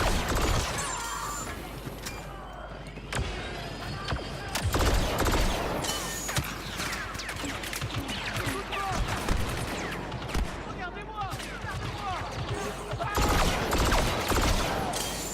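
Rapid bursts of blaster gunfire crackle through a Star Wars Battlefront 2 match, layered with explosions and mechanical game effects in a dense, continuous mix, with a player's voice talking over it.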